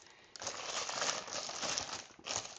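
Baking paper crinkles as it is laid on top of a tray of bakes, a close, dense rustle lasting about two seconds, with a brief pause and another burst of crinkling.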